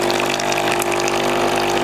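Breville Barista Express pump drones loudly and steadily as hot water flows into a cup, with a constant mechanical hum and gushing underneath.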